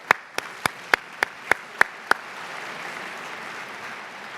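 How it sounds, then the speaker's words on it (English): An audience applauds at a talk event, opening with a handful of sharp, separate claps that swell into steady, broad applause. "you deserve a big round of applause"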